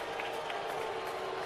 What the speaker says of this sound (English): Big crowd here at Minute Maid Park standing.